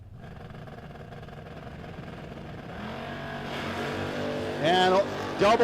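Race cars at a drag racing track, an engine idling steadily then building in pitch and loudness as it revs up, ending in loud rising bursts of acceleration.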